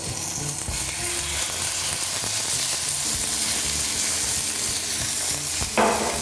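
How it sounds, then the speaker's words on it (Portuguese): Seasoned meat rubbed with black pepper and paprika sizzles in a hot Teflon frying pan. The frying hiss is dense and steady, with occasional scraping and clicking from stirring, and a sharper burst of sizzle comes near the end. "A frigideira já está quente. O lado que eu coloquei todos os temperos, nós colocaremos na frigideira."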